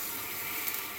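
Water pours into a cooking pot already set on the fire for a home remedy against colds, a short, steady splashing gush heard close up.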